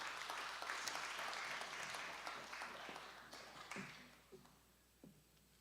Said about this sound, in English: another round of applause is in order